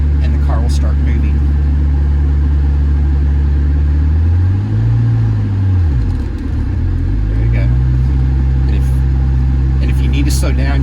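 Manual Ferrari engine pulling away in first gear during a stick-shift lesson: low steady engine drone that dips and then rises again as the car moves off, close and loud, with people talking over it.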